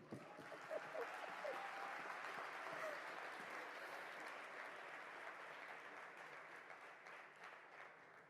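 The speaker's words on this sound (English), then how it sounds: "I want a clap." An audience at a community learning talk applauds, a fairly quiet, distant spread of clapping that stays steady for several seconds before thinning out, with faint voices underneath.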